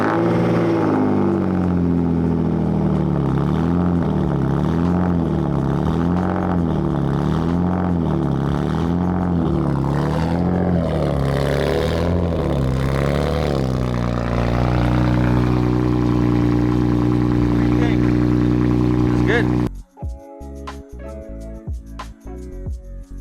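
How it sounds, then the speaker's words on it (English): A BMW E36 engine runs with its old exhaust, a loud, close idle that rises and falls in repeated rev swells and then settles into a steady drone before cutting off abruptly into scattered clatter. "let's go hear the car start for the last time"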